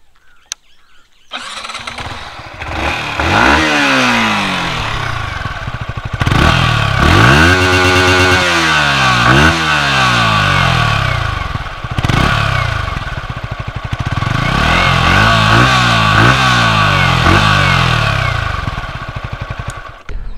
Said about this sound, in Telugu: అండ్ ఎగ్జాస్ట్ నోట్ అయితే వినండి, తర్వాత మనం రైడ్ అయితే చేద్దాం.